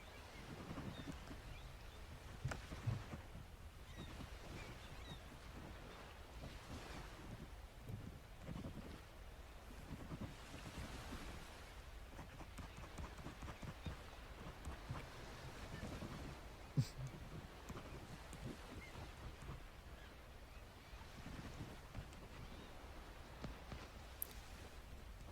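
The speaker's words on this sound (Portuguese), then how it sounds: "ao som do mar e da natureza que o cerca" Sea waves and wind on a deserted beach make a continuous low, rough wash with soft recurring surges and gusty microphone buffeting, fairly faint and steady throughout.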